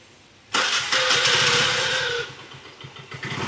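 A scooter engine revs up sharply and holds a steady whine with the throttle open during a learner's riding practice, loud and close, then eases back to a lower idle-like rumble near the end.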